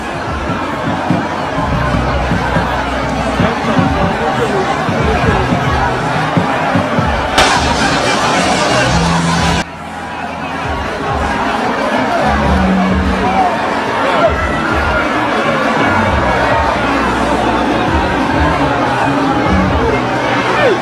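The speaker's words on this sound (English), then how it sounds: "The crowd is crazy." A large, excited crowd at a New Patriotic Party internal election gathering, with loud continuous babble, shouting and cheering and a brief bang-like burst partway through.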